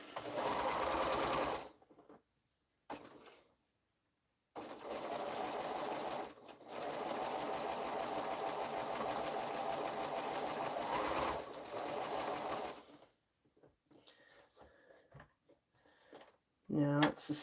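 Sewing machine stitching a curved quilt seam, its steady close whir running in several stretches with brief pauses between, faint handling noises in the quiet gaps.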